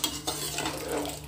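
Pulao gets stirred in a pot, a short burst of close scraping and soft metallic clinks against the pan over a low background hum.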